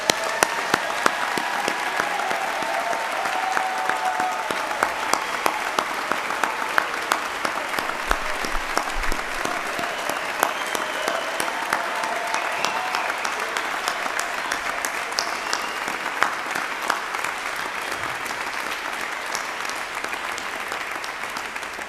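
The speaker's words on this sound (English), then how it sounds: "let's have one more round of applause for all our graduates" A graduation ceremony audience applauds the graduates, dense, continuous clapping from a large crowd that holds steady throughout and fades slightly toward the end.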